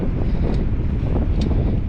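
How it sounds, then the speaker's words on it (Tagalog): Cold wind rushes over the microphone during an outdoor bike ride near water, a loud, steady low roar with no voices. "Ang lamig ng hangin."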